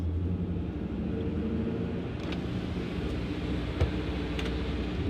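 A 5.0 car fitted with a Paxton supercharger and ported Boss manifold being driven, heard from inside as a steady low engine rumble with a faint click or two, no voices.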